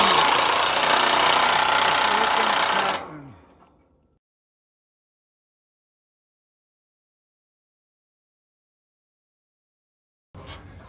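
A wrench working a large nut on a bolt of a rolling barge bridge, a loud close grinding rattle lasting about three seconds before fading to silence, with a short burst of sound returning at the end.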